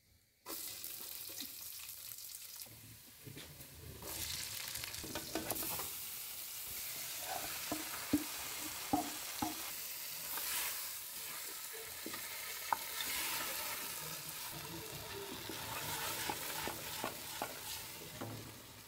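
Chili and salt fry in a pan on a home stove, a steady loud sizzle running throughout with scraping stirs and small pops and clicks of a utensil against the pan.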